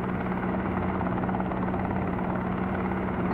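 In a helicopter simulator game, the helicopter's rotor and engine drone loud and unbroken throughout, a dense rumbling chop with a steady low tone and no pauses.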